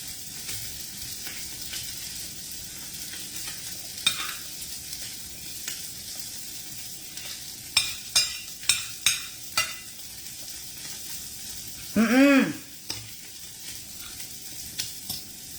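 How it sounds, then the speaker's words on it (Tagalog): Spam frying in a non-stick pan, a steady low sizzle running throughout with scattered clicks and several sharp utensil taps and scrapes near the middle, one louder clatter toward the end. "pagka magluluto ka ng spam, kailangan meron kang non-stick na na kaldero."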